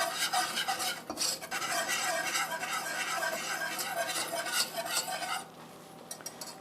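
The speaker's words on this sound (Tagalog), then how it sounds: "let's put our all-purpose flour. And then, ihahalo lang natin siya hanggang ma-incorporate siya sa ating butter" Flour being stirred into melted butter in a pan for poutine gravy, with repeated close scraping and clinking of a utensil against the pan over a soft sizzle, the stirring easing off toward the end; no talking.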